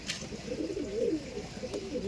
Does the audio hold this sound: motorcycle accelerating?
no